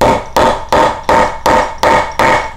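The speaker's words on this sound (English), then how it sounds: "and I'm going to flatten out the rivet." Steady hammer blows flatten a rivet on a homemade leather IWB holster: seven evenly spaced, loud, close strikes in a regular rhythm, with no talking.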